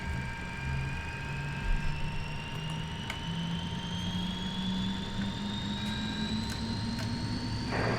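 MD-82 jet engines spool up to takeoff thrust in a flight simulator, a loud, steady roar with whining tones that climb in pitch as the power builds, with no talking.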